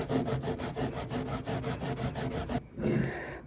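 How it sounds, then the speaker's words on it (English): A nail file rasps back and forth across a fake nail in quick, even strokes, close and crisp, about a dozen passes before a brief pause and a few final scrapes. "I'm just gonna sit here filing awkwardly."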